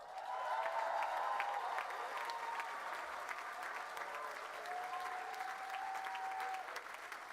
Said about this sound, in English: it was a large round of applause at the end of each section